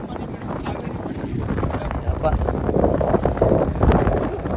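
Strong wind at the KRS reservoir backwaters near Mysore buffets the microphone in a continuous low roar, growing louder toward the end, with a voice faintly audible beneath it.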